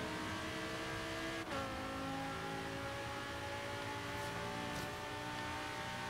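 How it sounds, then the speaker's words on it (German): Car engine roaring as heard from the interior view in Forza Horizon 3, a sustained loud drone with shifting pitch and brief gear-change dips, close and alone with no talk. "Das Sound im Innenraum, ne? Der Motor eigentlich einfach anbrüllt."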